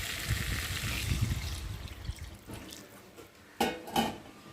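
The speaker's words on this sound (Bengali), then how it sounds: "আর এখন আমি পরিমাণ মতো জল দিয়ে ভালো করে একটু সেদ্ধ করে নেব" Water is poured into a simmering potato curry in a pan: a steady rushing pour fills the first two seconds, then fades to a quiet bubbling, with a couple of brief sharp clinks near the end.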